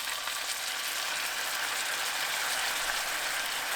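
Thin-sliced pork belly with shishito peppers sizzles over medium heat in a pan of seasoning sauce, a steady bright crackling fry heard up close and unbroken, with no talk.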